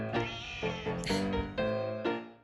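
Several loud, close cat meows in a quick series of rising and falling harmonic cries, with no voices over them.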